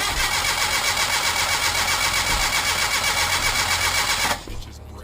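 Geo Metro car engine with coolant and head gasket trouble cranking over with a rapid, steady starter whir for about four seconds, then stopping abruptly into a quiet hum.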